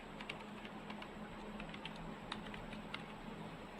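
Code is typed on a computer keyboard, a quiet, steady run of soft key clicks with occasional sharper taps, close and alone without speech.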